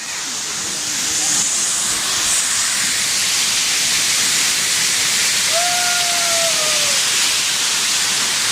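A waterfall in a cave in the Seribu Goa nature area in Banuarea pours with abundant mountain water, making a loud, steady rushing hiss that fills the whole stretch up close. A faint whistle-like tone rises briefly over it.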